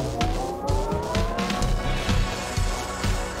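A synth build-up processed with automated delay, pitch shifting and bitcrushing gives a rhythmic pulsing pattern. Gliding pitched tones rise through it, and gritty, crunchy echoes repeat at a steady tempo.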